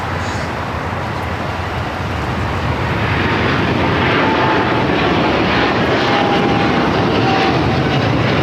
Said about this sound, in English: This is British Airways 282 taking off to London Heathrow